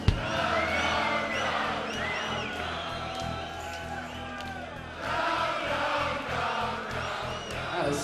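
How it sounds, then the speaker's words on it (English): Festival audience at a blues concert in Ospel cheers and whoops loudly and steadily throughout, a dense wash of crowd noise with rhythmic swells, heard from within the crowd. "just want to hear the crowd right now."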